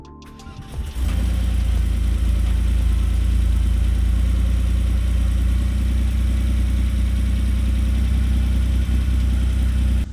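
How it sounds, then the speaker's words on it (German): A Porsche 964 Turbo's engine cranks and catches after a brief quiet moment, then settles into a loud, steady, low rumbling idle that runs unbroken to the end. "Erster Sound genau wie startet Motor,"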